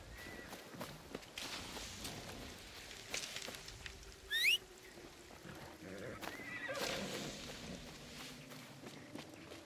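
Horse in Assassin's Creed Shadows giving one loud, rising whinny midway, set among soft footsteps and hoof clops in a quiet game scene.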